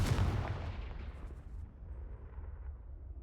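A Confringo blasting spell in the video game Hogwarts Legacy lands as a heavy booming blast with a deep low rumble, loud at first and then decaying over about three seconds.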